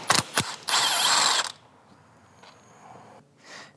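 Hand ratchet loosening 12mm bolts on the intercooler of a Subaru WRX, a few quick close clicking strokes followed by a longer rapid ratcheting run, then faint handling noises.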